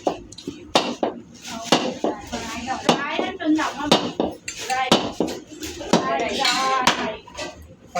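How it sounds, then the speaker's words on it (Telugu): Coconuts being cracked on a stone during a ritual gathering, sharp repeated hard knocks and clinks in an irregular rhythm, close and loud, with people talking throughout. "ఒక రాయి తెప్పించి పెట్టుకుంటే కొబ్బరికాయలు కొట్టడానికి ఈజీ ఉంటుంది"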